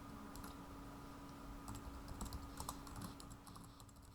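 Typing on a computer keyboard while entering a chart label in a spreadsheet dashboard: a quiet, steady run of key clicks with a brief flurry of taps, close and faint over a constant low hum.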